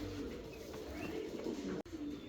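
A pair of American Lakka fancy pigeons, one red and one black, coo in a low steady murmur close by, with a sharp click near the end.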